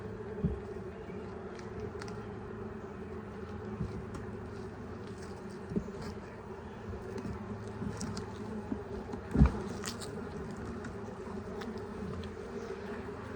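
Honeybees buzzing at an open beehive in a continuous close drone, with a few light knocks and frame-handling clicks.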